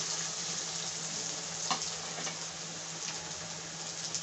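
Sweet corn tikki fry in oil over a medium high flame, bubbling with a steady close sizzle and light crackling pops throughout, and no talk.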